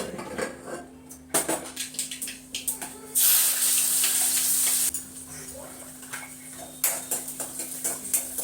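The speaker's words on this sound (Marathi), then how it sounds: "एकीकडे आता भरीत फोडणी देते" Eggplant bharta gets a tempering in hot oil on a home kitchen stove. A loud hissing sizzle bursts out among clinking pots and utensils, with a second brief surge of sizzle later.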